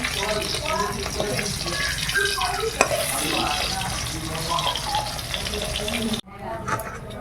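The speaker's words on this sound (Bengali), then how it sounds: "ছোটো বেটুর জন্য মাছটা ভালো করে ভেজে নিয়েছি" Fish pieces frying in a pan at home, a continuous close sizzle and bubbling with occasional stirring clinks, cut off briefly near the end before fainter frying returns.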